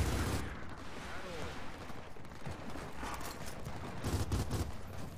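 Gunfire in Gears of War 4 crackles in bursts amid a busy, noisy game mix, with heavier shots near the start and end.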